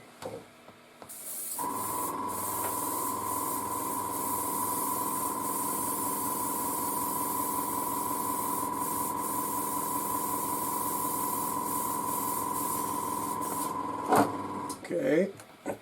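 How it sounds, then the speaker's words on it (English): Airbrush being cleaned while painting a 1:35 Trumpeter E-50 Standardpanzer model, a steady loud hiss of air with a constant tone for over ten seconds, then short sputtering bursts at the end. "let me just clean the airbrush"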